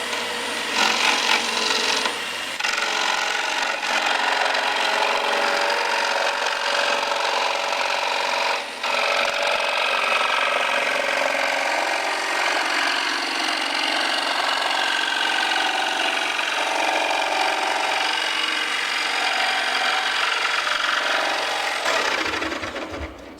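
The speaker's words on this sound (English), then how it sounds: "You want to work at a moderate speed, pushing through, letting the saw do the work." A jigsaw cuts steadily through a workpiece at moderate speed, giving a loud, continuous buzzing rasp that runs for most of the stretch before stopping abruptly near the end, with no talk.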